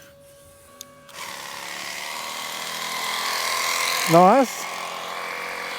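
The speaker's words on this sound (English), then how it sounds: "And we're drilling." A power drill drives a homemade brick-cleaning tool, whining steadily for several seconds with a brief rising, wavering surge near the end; a voice speaks briefly over it.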